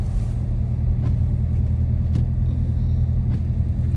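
A 2022 Dodge Charger Scat Pack Widebody drives through a snowy blizzard, its engine a steady, loud low rumble that holds throughout, with faint clicks and thumps on top and no talking.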